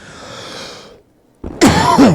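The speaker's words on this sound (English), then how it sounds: "I coughed into the mic, not away from the mic." A single loud, harsh cough right up close, preceded by a softer breathy sound and a brief pause.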